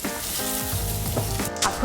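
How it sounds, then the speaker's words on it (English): Small sesame seeds fry in butter in a pan with a steady, close sizzle and light crackle throughout, with no voices. "because the sesame seeds are very small, so they will fry very quickly"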